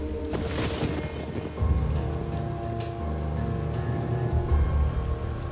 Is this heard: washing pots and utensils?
no